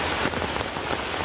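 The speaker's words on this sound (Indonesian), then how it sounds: "kebetulan pada saat saya sampai di sini hujan lagi" Steady rain pours onto surfaces at an outdoor site beside a small hut shelter, a dense continuous hiss that is loud and close, with no voices.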